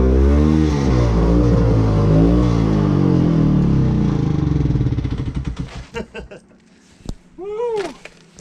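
A 1973 Arctic Cat Lynx snowmobile engine drones loudly and revs with rising, falling pitch as it rides past, then fades away, leaving quieter clatter and a voice calling out at the end.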